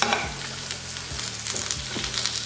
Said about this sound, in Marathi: तर इथे कांदा लालसर होईपर्यंत भाजून घ्यायचा आहे।